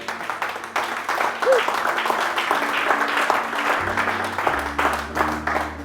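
Church congregation applauding to acclaim the Lord during a sermon, a steady crowd of clapping mixed with voices, with a low sustained hum entering partway through.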